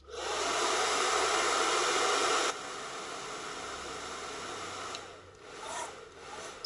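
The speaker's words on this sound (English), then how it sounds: "I'm going to blow dry just for a quick second or two or three." A hair dryer blows in short bursts over craft foam, a steady close rushing hiss that drops in level partway through and then trails off into rustling and handling noise.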